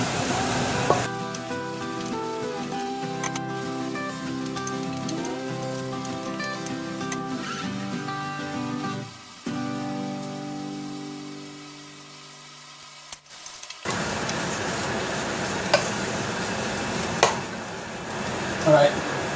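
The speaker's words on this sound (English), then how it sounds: "So it's coated all the vegetables, and I'll just continue to spread it around and cook it." Vegetables coated in roux being stirred and cooked in a pot for chicken, chorizo and okra gumbo, a continuous close sizzle with scraping stirring sounds, briefly dropping away mid-clip before the frying noise returns loudly.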